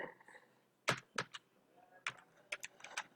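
Names are typed on a computer keyboard into a spreadsheet cell, with bursts of close, crisp key clicks in uneven clusters separated by short pauses in a quiet room.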